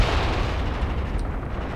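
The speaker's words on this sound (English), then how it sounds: "my mortar strike is really hitting the farmstead over there now" Mortar strike explosions in the war strategy game Graviteam Tactics, landing on a farmstead as a dense, continuous rumble of booms with heavy low-end weight, loud and unbroken.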